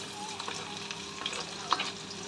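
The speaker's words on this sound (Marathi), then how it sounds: "आता हा पण कांदा आपल्याला तांबूस होईपर्यंत परतायचा आहे" Three medium onions fry in a pan after garlic, a continuous close sizzle with soft scrapes and a few clicks from stirring.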